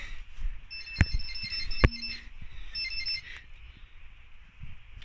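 Electronic carp fishing bite alarm giving a few bright beeping tones in short bursts, fairly faint against outdoor background noise, with a couple of sharp knocks.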